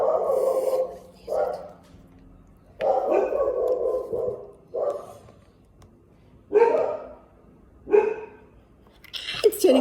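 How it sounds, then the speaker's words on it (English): Several dogs bark in repeated bursts of a few sharp woofs with short gaps between them, fairly close and loud, in a room indoors. "That's my dogs that are barking at the moment."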